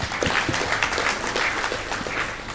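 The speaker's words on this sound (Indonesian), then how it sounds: "tepuk tangan nih." An audience at a national seminar in Bali applauds, a crowd of sustained clapping, moderately loud and steady throughout with a few sharper individual claps.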